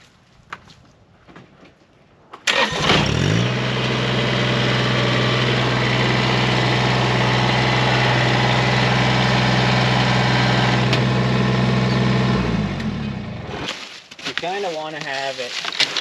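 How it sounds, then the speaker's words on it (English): A Kubota BX23s sub-compact tractor engine cranks and catches, then idles steadily and loud at close range for about ten seconds before revving down and cutting off. "And I'm going to move the tractor a little closer."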